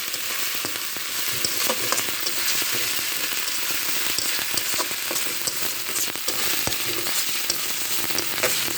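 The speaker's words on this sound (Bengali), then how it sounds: "হালকা আঁচে ভেজে নিতে হবে দুই থেকে তিন মিনিট ধরে বাদামি কালার করে ভেজে নিতে হবে" Prawn fritters fry in a pan of oil over low heat, a steady close sizzle dotted with small crackles and occasional stirring, continuous with no talk.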